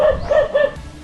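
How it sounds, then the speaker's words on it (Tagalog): A dog at a house in the Philippines barks three times in quick, even succession, loud and close, over a faint background rumble. "Tapos yung aso, pala yung kahol."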